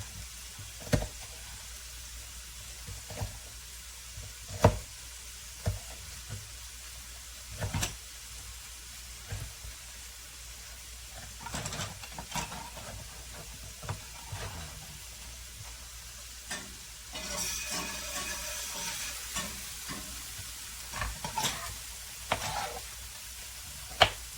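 Chopped onion sizzling in a pan as the base for pasta e fagioli: a steady frying hiss throughout, broken by scattered clicks and scrapes of stirring, with a louder burst of sizzle near the end.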